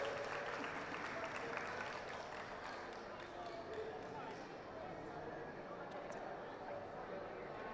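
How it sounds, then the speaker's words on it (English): An audience at an edutainment stage event gives sustained applause for the in-house artist, a dense, even wash of clapping heard from some distance, with voices mixed in. "Can we get a round of applause for Leona, because she's our artist in-house?"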